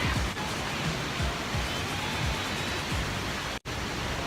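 Casaroro Falls heard as a constant, dense roar of rushing water, steady and loud, with a brief dropout near the end and faint footsteps or handling noises.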